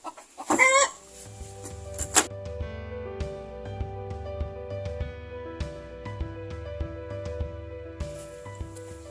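Backyard chickens cluck in their run, a short burst of calls at the start followed by occasional soft clucks over a steady bed of music-like tones.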